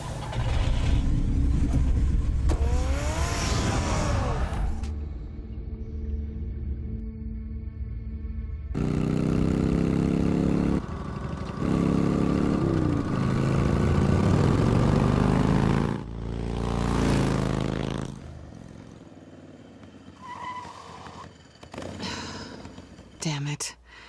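The Batmobile in a Batman game episode starts up and drives off, its engine revving and roaring loudly in surges with pauses between, under and around talking and dramatic music.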